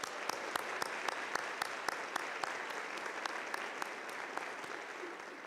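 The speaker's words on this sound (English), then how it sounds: "Please join me in a round of applause for the Millikin Faculty Jazz Ensemble." A commencement ceremony crowd applauds the faculty jazz ensemble, steady, full clapping from a large audience heard from a distance and lasting throughout, with no talk over it.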